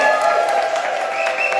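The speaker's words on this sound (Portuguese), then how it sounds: "Gente, uma salva de palmas para esses dois artistas que entregaram muito." Audience applause for two performers after a scene, a dense, steady patter of many hands clapping throughout, with a faint tonal hum running underneath.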